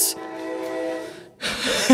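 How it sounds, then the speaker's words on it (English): A train horn sound effect blares with a steady, loud, sustained tone for about a second, then cuts to a burst of noisy hiss and rumble. "See, there's a train."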